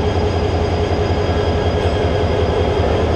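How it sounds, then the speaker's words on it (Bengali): A Mohanganj Express train with a 2900 series locomotive gives a steady, loud rumble of engine and rolling stock, a continuous dense roar with no pauses and no talking. "এই যে মোহনগঞ্জ এক্সপ্রেসের লোকোমোটিভ"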